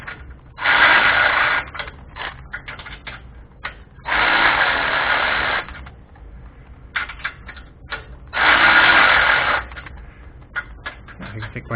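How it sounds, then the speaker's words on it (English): A ratchet or power driver tightens 16mm bolts on a 2007 FJ Cruiser front sway bar drop kit, in three loud whirring bursts of about a second and a half each, separated by quieter clicks and handling noise. "I'm going to tighten those down"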